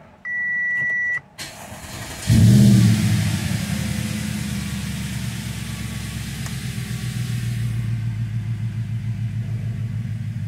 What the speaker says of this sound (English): now let's start the car